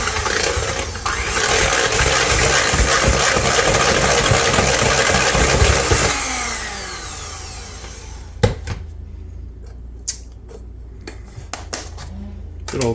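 An electric mixer runs steadily for about six seconds, beating baking powder into chocolate butter ball batter, then shuts off. A few sharp clinks of utensils against a bowl follow.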